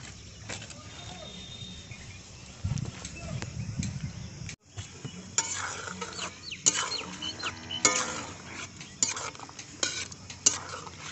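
A spoon scrapes and stirs as chopped eggplant goes into a prawn curry in a pan, giving soft liquid churning and repeated metal clinks, with someone talking over the cooking.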